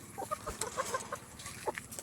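Chickens clucking close by, short irregular clucks and squawks over a steady low background hum, no talking.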